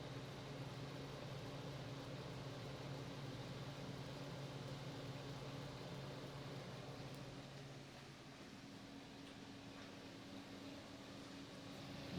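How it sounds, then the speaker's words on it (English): A 1990s Capehart 40-pint dehumidifier with its compressor running, a steady low hum with faint tonal whine under broad airy noise, constant and unbroken throughout. "Nice quiet compressor."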